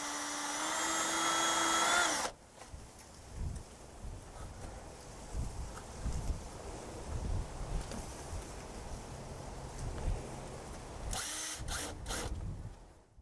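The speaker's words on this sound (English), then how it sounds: "The next procedure is to drill a hole in the top of the manhole to attach the information tag." A power drill bores a hole into the top of a manhole, a steady grinding whir that starts abruptly, runs loudly for about two seconds, then returns briefly near the end amid windy outdoor noise.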